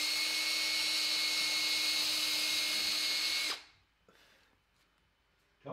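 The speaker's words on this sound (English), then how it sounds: "So we just drill a hole, and then once we've finished with this one, once we drill this hole" A power drill bores a hole in wood with a loud, steady high-pitched whine that holds for about three and a half seconds before cutting off, followed by faint handling clunks.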